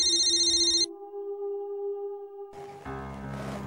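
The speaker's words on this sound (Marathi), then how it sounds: "घरून फोन." A phone rings with an electronic, steady tone over soft background music in a Marathi TV serial scene, alone and fairly clear, before a louder burst of music swells in.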